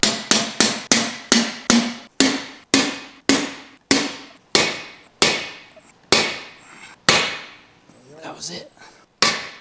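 Steady series of loud hammer blows driving a cylinder sleeve into the bore of a MOPAR 413 engine block, each strike a sharp metallic clang with ringing decay, spacing gradually widening, with a brief spoken remark near the end.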